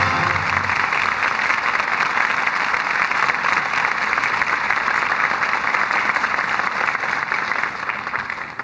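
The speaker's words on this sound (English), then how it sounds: "For drama that rates the applause of this audience, our thanks go to this evening's stars" A radio-drama studio audience claps in a loud, sustained, even burst of applause that keeps going the whole way through and eases off slightly at the end.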